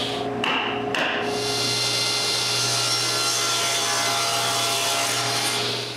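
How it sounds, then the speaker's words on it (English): Cherry wood being hand sanded on a lathe while turning a mortar and pestle, a continuous close rasping rub over a steady machine hum, after a couple of brief knocks at the start. "I sand only the bottom by hand"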